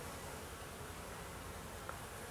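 Honey bees stream out of a hive in a sunny apiary, a steady dense buzzing drone filling the whole stretch at low level, with no voices.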